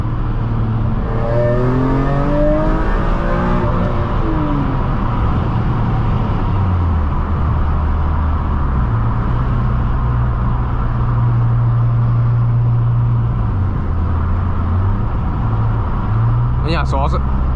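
A BMW E46 M3 CS engine revs through downshifts from inside the cabin, with rising and falling engine tones, blips between gears and a steady loud drone, heard close with talking over it.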